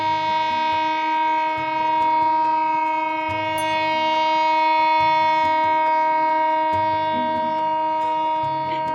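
A train pulled by two engines rolls past a level crossing with a low rhythmic rumble of wagons, while a loud, sustained horn blares over it for the whole passage.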